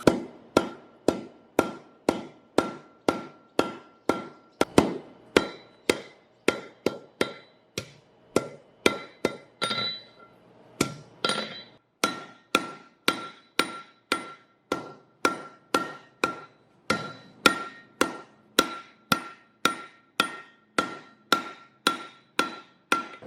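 Steel is hammered on an anvil while a Zimbabwean spear is forged, a long run of sharp ringing strikes at an even, brisk rhythm, loud and close, with one brief pause partway through and no voices.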